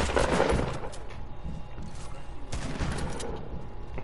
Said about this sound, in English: now this man is gonna shoot repeatedly